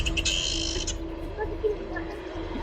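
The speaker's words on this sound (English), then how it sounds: "It's one of those little partridge things freaking out." A small partridge calls in agitation, giving short, sharp chirps over a steady hum, with a bright burst of calls near the start and scattered notes after it.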